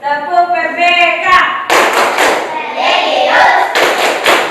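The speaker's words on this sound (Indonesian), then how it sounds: "kita melaksanakan tepuk PPK dulu" An Indonesian class claps through the rhythmic PPK clapping chant in patterned groups of sharp, close claps and thumps, mixed with the children's chanted voices.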